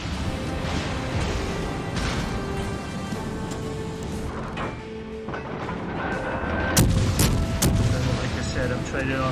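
Naval guns booming in World of Warships, a burning ship trading fire in both directions amid steady battle rumble, with several sharp, loud blasts clustered near the end over continuous game noise.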